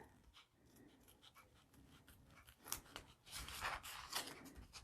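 Scissors snipping close around an embroidered glitter applique patch, a series of quiet crisp cuts in short bursts growing busier toward the end, close up with soft rustling between snips.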